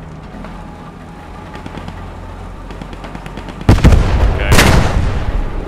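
Gunfire and explosive blasts in the WWII shooter Post Scriptum during a tank battle at Oosterbeek, with a sharp loud burst of shots after a stretch of rumbling engine noise and distant pops, and a brief voice speaking.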